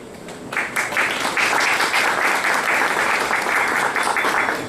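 Audience applause at a Brazilian panel talk event on entrepreneurship in a crisis, loud dense clapping rising sharply after a half-second and holding steady near the listener.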